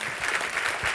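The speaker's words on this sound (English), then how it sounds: "could you please give our 4 changemakers a big round of applause?" A conference audience at a business changemakers forum in Auckland claps in steady, dense applause, loud and continuous with no voices standing out.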